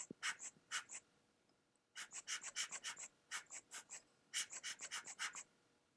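Short puffs from a hand dust blower clear dirt off a microscope specimen, coming in quick bursts of airy squeezes, a few at first, then a longer rapid run, fairly close and with no talking.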